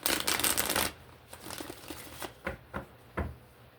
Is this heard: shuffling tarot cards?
yes